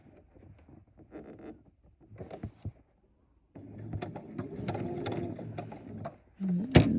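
A sewing machine stitches binding onto a quilted coat, a faint mechanical tick at first, then a steady whirring run of stitches and a heavier clunk near the end.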